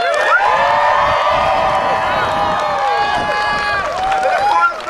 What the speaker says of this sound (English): give all our guest speakers today a big round of applause and a big cheer